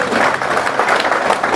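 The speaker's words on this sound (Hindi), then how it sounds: "जोरदार तालियां होनी चाहिए पूरी महफिल में।" Audience at an evening poetry and music tribute to martyrs claps loudly and steadily, a dense continuous applause from a full hall.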